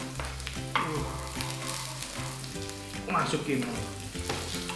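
Shallots and garlic for fried rice sizzle hard in hot oil over a high flame, crackling continuously with bursts of spattering and a steady stir, while a faint voice speaks briefly.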